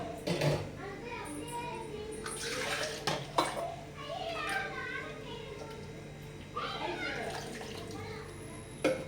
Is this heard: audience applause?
no